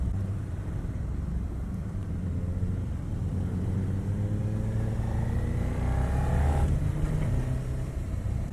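A Suzuki SV650 V-twin naked bike from 2018 runs with a deep, punchy engine rumble that rises toward a rev near the end, steady and fairly loud, with no talk.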